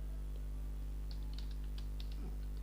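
Soft clicks of fingers typing on a computer keyboard while entering text in an Excel spreadsheet, a short sparse run of faint keystrokes over a steady electrical hum.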